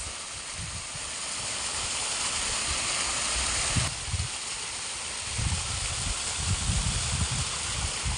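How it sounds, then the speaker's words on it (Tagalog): A waterfall on the Palakol River in Pampanga gives a constant broad rush of falling water, with some low rustling and bumps near the microphone. "sa Palakol River, may waterfalls"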